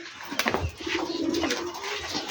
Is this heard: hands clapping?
no